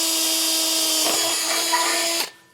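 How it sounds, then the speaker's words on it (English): A high-pitched power drill whines steadily, dipping briefly as it bites into an enclosed trailer while drilling holes for an access ladder, then winds down and stops. "So we'll get our remaining holes all drilled out."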